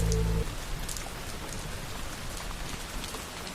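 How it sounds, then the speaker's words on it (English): Gentle rain falls steadily, a soft continuous patter of drops on surfaces with no voices, after a brief low thump at the very start. "Listen to the sound of the rain gently falling in the background."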